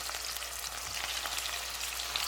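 Salisbury steak patties fry in a hot pan, giving a dense, steady sizzle and crackle with constant popping spatter and no voices.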